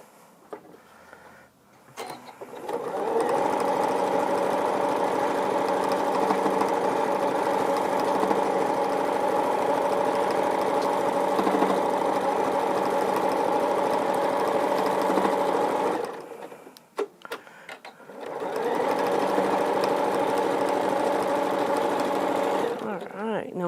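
Sewing machine stitching two pinned quilt blocks together, a steady loud whir running for about thirteen seconds, pausing briefly, then resuming; a voice can be heard faintly at the start.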